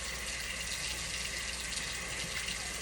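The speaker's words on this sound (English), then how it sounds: "I constantly wash my hands anyway" Hands being washed in sink dishwater in a kitchen while cooking a breakfast sandwich, heard as a soft, steady splashing and water swish throughout, fairly quiet and close with no talk.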